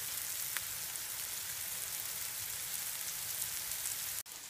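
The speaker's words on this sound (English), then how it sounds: "Let that cook for a few minutes now until those onions are nice and soft." Onions frying in a pan for pasta carbonara, a soft steady crackling sizzle like light rain, close and unbroken, with a brief clack near the end and no talking.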